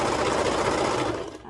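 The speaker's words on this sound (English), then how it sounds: "I'm going to go ahead and sew it." A sewing machine stitches fabric in a fast, dense mechanical rattle, loud and close, easing off briefly near the end.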